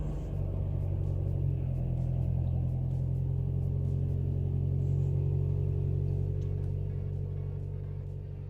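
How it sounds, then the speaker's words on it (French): A Nissan Micra K11 petrol engine, just fitted with a new airflow meter, runs at a steady idle with a constant low rumble, close and even throughout, with no voices. "voilà le premier démarrage de la voiture avec le nouveau débitmètre, le voyant moteur qui disparaît et le ralenti qui tient nickel"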